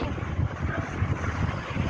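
Strong wind on a rocky seaside at Shek O buffets the microphone with a continuous low rumble and roar, no voices heard.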